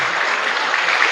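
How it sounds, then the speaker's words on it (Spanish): Church congregation applauding during a sermon, a dense, steady wash of many hands clapping at once, fairly close and continuous for about a second. "Si lo cree, denle un aplauso al Señor entonces."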